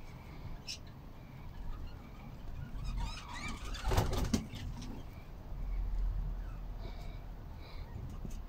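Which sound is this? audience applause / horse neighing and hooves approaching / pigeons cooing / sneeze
pigeons cooing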